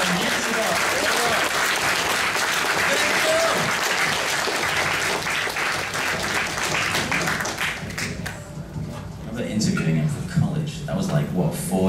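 Applause fills the room at a Godzilla fan convention panel, a dense wash of clapping from a crowd that thins toward the end as voices start talking over it.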